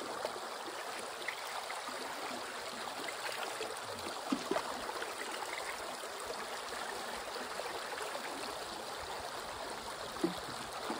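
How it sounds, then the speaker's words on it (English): Water runs steadily through a gold sluice as it is scooped through by hand, a continuous close trickling and gurgling flow with no talk. "hand scooping the water through the sluice"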